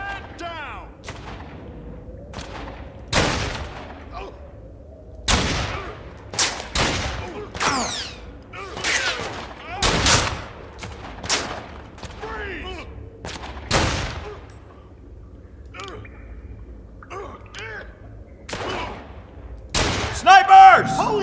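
Sniper gunfire in the video game Fallen Earth, a run of sharp, loud cracks fired at irregular intervals and sometimes in quick pairs, some followed by a rolling echo. Shouting voices come and go between the shots.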